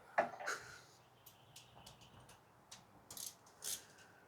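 A ratchet spanner with a socket clicks as an awning is bolted onto a camper, giving quiet, close, intermittent metallic ratcheting bursts with short pauses between strokes.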